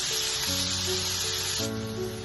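Tomatoes cooking in a pan for an egg roast give a steady, close frying sizzle that runs unbroken throughout, with gentle background music playing along.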